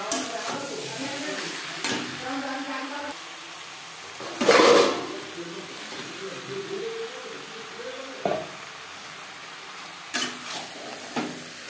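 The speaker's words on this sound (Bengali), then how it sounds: "পেঁয়াজ টমেটোর সাথে চিকেন বেশ ভালো করে মিক্স করে দেব।" Chicken stirred with onion and tomato in a pan for aloo chicken curry with bhaja masala, a soft frying sizzle broken by scattered scrapes and knocks of a spoon against the pan, with speech murmuring underneath.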